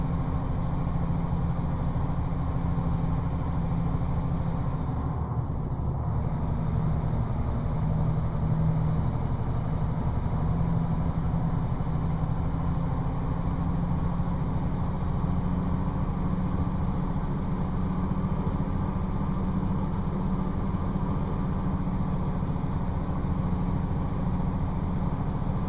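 A loaded truck on a construction job in Mexico pulling away with some clutch slip, a low steady engine drone and rumble heard from inside the cab throughout, with no clear change in revs.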